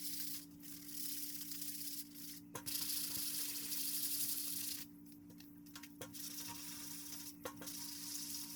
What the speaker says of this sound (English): Turns out you are supposed to sand between primer and the physical finished paint coat